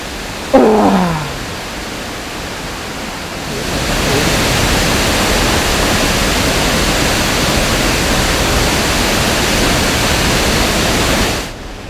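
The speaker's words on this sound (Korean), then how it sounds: "두 자매 같이 나란히 이렇게 내려오는 물줄기가" Twin parallel streams of a waterfall at Iguazu in Argentina pour down in a loud, steady, broadband roar that swells and holds without a break, after a brief high chirp at the start.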